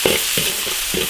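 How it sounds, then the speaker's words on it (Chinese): Ginger, garlic and chili sauce stir-fry in a wok with a loud, continuous sizzle, broken by three or four quick spatula scrapes in a loose rhythm. "生姜大蒜，万能辣椒酱， 炒出红油"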